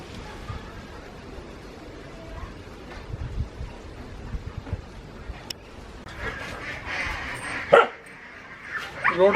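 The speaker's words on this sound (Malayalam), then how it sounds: "റോഡ് വീലർ ഇനത്തിൽപ്പെട്ട നായാണ്." A seven-month-old Rottweiler on a farm gives short barks and yips, nearby and growing louder toward the end, over a low outdoor background.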